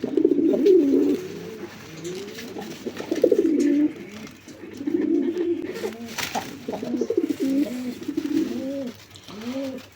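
A pair of Indian Bombay pigeons, a male and a female, coo close by in soft, repeated rolling calls that overlap and pulse steadily throughout, with no talking.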